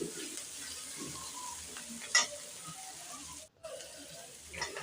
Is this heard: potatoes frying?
yes